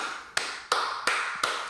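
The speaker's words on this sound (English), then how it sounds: "is he clapping in an empty room?" Four sharp hand claps in an empty room, evenly spaced about a third of a second apart, each with a brief roomy ring, fairly quiet and with no talking.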